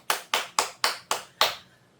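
A single person claps six times at a slow, even pace in a quiet room, each crisp smack clear and close, with a short ring after the last clap.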